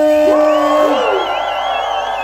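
Loud crowd shouting and whooping at a Christian rap concert in Temuco, Chile, voices rising in rising and falling yells that carry steadily through the whole stretch, dense and close.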